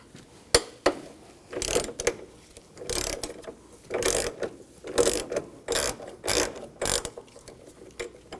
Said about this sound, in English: Now using a 13mm socket, we're going to take these nuts out.